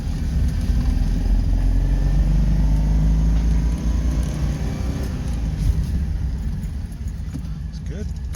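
Inside a Citroën 2CV with a 602 cc engine, a low, steady engine drone rumbles as the little French car drives around the block, while someone talks over it close by.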